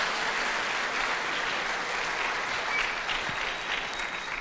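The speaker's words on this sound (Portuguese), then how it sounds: "uma salva de palmas, gente" Church congregation giving a sustained round of applause, dense steady clapping from many hands close by, with no talking over it.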